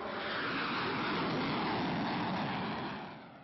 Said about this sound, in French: Ce matin, il est à bord de ce F-16, au-dessus de vos têtes.